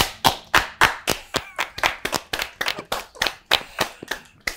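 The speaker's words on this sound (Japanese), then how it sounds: "松尾さんすいませんなんか無理やり拍手して" A small studio audience claps in a quick, even rhythm, about a dozen crisp distinct claps close up and fairly loud, with no one speaking over them.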